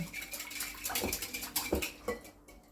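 A utensil scrapes and knocks around a bowl of runny bread batter in quick, uneven strokes, close and fairly quiet, with no talking.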